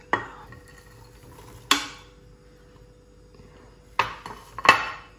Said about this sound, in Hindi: अब जी ये कुकर में जाएंगे चने